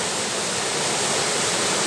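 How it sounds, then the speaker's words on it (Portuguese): Cachoeira das Neves waterfall in Trajano de Moraes roars as a steady, loud, dense rush of falling water, filling the scene without a break and with no voices. "Recomendo Cachoeira das Neves em Trajano de Moraes"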